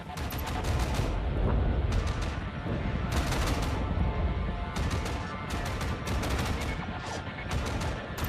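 Gunfire in Tom Clancy's EndWar comes as dense, loud volleys of rapid automatic shots that keep breaking off and starting again, with booming impacts under them and radio voices at times.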